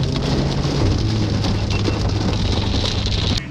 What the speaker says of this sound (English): Actually, it's not raining, it's hailing.